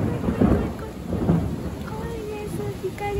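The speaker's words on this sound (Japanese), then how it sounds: "雷鳴ってる。" Thunder rumbles low and heavy during a strong, windy downpour over a balcony vegetable garden, with steady rain hiss and a few faint higher tones in the background.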